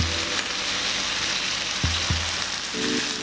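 Garlic mushrooms sizzling in a pan with sweet teriyaki sauce, a steady crackling fry with a few soft clinks of stirring.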